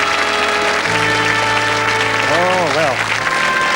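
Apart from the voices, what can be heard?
studio audience applause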